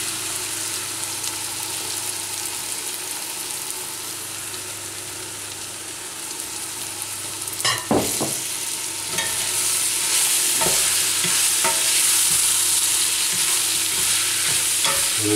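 Lamb offal for liver sarma fries with sautéed onions in a pan, making a continuous close sizzle. Scraping stir strokes come in around the middle, and the frying grows louder and brighter afterward, with no talk.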